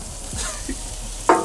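Shrimp frying in oil over open flames, a steady close sizzle with a brief louder flare of spitting toward the end, no talk.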